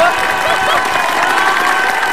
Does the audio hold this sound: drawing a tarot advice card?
no